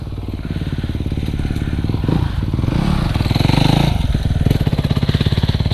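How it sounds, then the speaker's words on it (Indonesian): Bored-up Honda CRF motorcycle engine on a grasstrack circuit, running loud and close with a steady rapid thumping beat that rises and falls as the throttle is worked. "Kita nyobain yang CRF ah."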